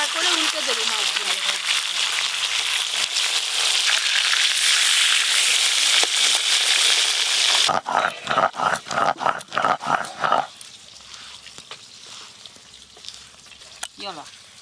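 Rohu fish fried in a pan with large eggplant pieces, a steady bright sizzle lasting about eight seconds, then broken clatter and stirring, with a dog barking and voices nearby.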